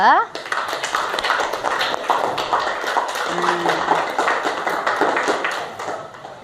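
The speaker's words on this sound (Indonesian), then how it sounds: "tepuk tangan sekali lagi untuk kelompok 2" A crowd claps steadily, a dense patter of applause sustained for several seconds before tapering off.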